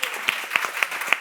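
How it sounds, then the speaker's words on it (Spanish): Brief audience applause at a breast cancer information event, a short burst of scattered clapping with a few distinct sharp claps, moderately loud. "Un aplauso para esto, por favor."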